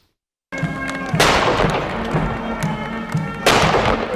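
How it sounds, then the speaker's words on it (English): Booming ceremonial cannon blasts in downtown Annapolis, two sharp reports a couple of seconds apart, with rumbling echoes and crowd noise filling the space between them. "Cannons rocketed downtown Annapolis and jets flew through the sky."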